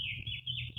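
A bird sings outdoors near trees, a thin continuous high chirping trill over a low background rumble, fairly faint.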